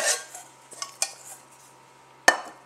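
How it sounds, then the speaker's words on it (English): Metal Coleman camping pot set being handled, a few scattered clinks and light scrapes, then one sharp ringing clank near the end, close and quiet between hits. "I would also recommend the Coleman pot set"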